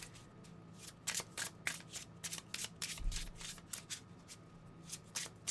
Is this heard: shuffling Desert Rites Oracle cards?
yes